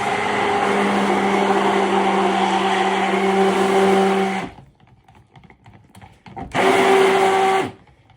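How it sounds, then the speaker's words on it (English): A stick blender whirs steadily through soap batter mixed with titanium dioxide, a close, even motor drone for about four seconds, a pause of near silence, then a second shorter burst of blending. "I'm going to go ahead and stick blend this with the TD so that we have that white completely combined."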